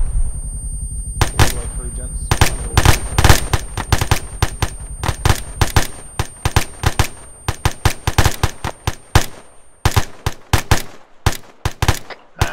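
Sustained automatic gunfire in the Arma 3 military game rattles in dense, fast bursts, loud and close, while someone speaks briefly over the shooting.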